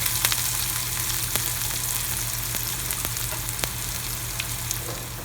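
Onion cooking in a pan for carrot onion uttapam gives a continuous moderate sizzle with a low steady hum underneath and occasional small pops and clicks.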